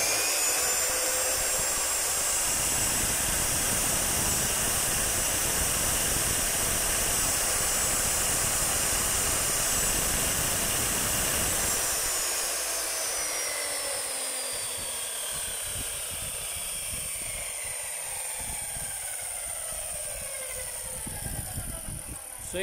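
A DeWalt D28700 14-inch chop saw motor runs steadily at speed, a loud continuous high-pitched whine and hiss that eases slightly in the second half as it keeps spinning, with no talk.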